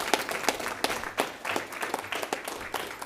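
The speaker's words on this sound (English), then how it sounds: "Round of applause for you guys." A small audience at a school board meeting applauds in a brief, moderately loud burst of scattered clapping that lasts a few seconds.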